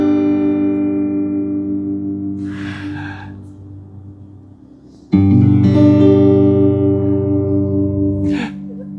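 Guitar playing a tune: sustained strummed chords ring and decay, then a fresh louder chord enters midway and rings on, with faint breathy noises between.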